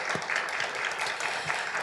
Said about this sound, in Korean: 우리 다시 한번 큰 박수 보내드리면서 앵콜을 대신하겠습니다.